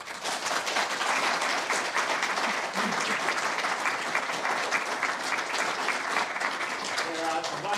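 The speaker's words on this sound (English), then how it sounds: "So perhaps we can give Anne another round of applause." Sustained round of applause from a lecture audience, broad and continuous, holding steady for several seconds before easing slightly at the end, with faint voices murmuring underneath.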